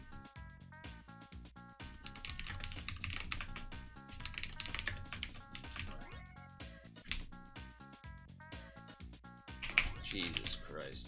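Rapid, uneven clacking of a computer keyboard being typed on, close and steady for about eleven seconds, with a voice speaking intermittently beneath the keystrokes.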